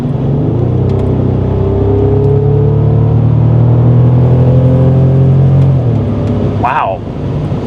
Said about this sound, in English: let's just lean on the throttle a little bit and see what it does